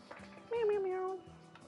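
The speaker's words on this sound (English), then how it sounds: "Hold on, my cat is meowing at me." A tabby cat gives a single clear, drawn-out meow close by, lasting under a second, with faint voice sounds around it.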